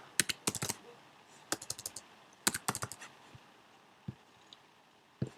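Someone types on a computer keyboard while filling out an online registration form, with quiet, close keystrokes in quick bursts separated by short pauses and a few single taps.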